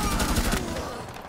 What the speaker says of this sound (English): Daniel, shoot him with the Twitch.